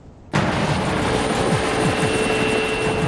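An attack helicopter, an Indian-built Light Combat Helicopter, flies close by with a loud, steady rotor and engine roar that starts abruptly and holds for about three seconds, with faint rhythmic rotor thumps underneath.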